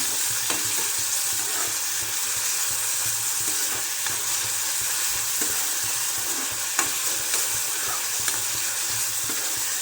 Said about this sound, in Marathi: आता कांदा घ्यायचा तेलामध्ये तळून